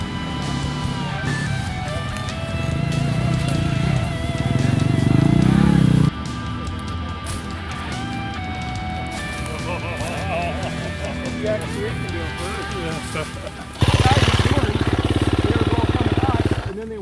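A UTV engine running as the vehicle drives down a steep ravine wall on an off-road trail in Canada. The motor drones on throughout, rising in loud bursts, while people talk over it the whole time.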